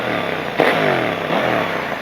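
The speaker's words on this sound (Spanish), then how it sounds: "Ahora sí suena esta moto" A KTM 890 Adventure motorcycle fitted with an AliExpress aftermarket exhaust revs up close, its throaty engine note climbing and falling through a couple of throttle blips, loud and continuous with no talking.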